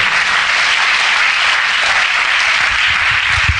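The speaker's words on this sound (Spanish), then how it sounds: "Dele un fuerte aplauso al Señor" A church congregation applauds, giving steady, loud, dense clapping that fills the space evenly from start to finish with no voices.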